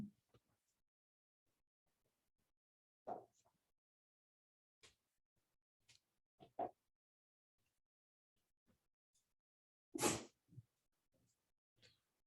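In a quiet classroom, several separate sneezes burst out across the span, sharp and isolated against near silence, the loudest one coming late. Faint murmurs and breaths fill the gaps.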